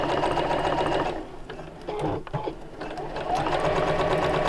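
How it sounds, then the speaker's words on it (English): Sewing machine stitching along a crease line in fabric, a loud close steady motor hum that eases briefly mid-run with faint handling noises, then resumes at full speed. "and sew just along that crease line."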